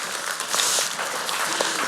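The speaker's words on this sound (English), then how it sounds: "So give them a round of applause," A room full of people applauds at an entrepreneurship and food innovation event, giving steady, dense clapping that holds evenly loud for the whole short stretch.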